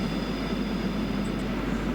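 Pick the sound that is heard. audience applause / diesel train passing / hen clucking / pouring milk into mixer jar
diesel train passing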